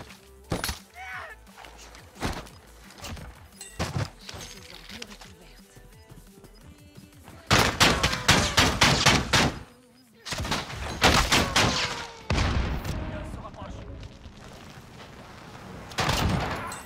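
Bursts of gunfire from the video game Warzone, sharp broadband volleys and rapid runs of shots, loudest in dense clusters toward the middle and end, with players talking over the action.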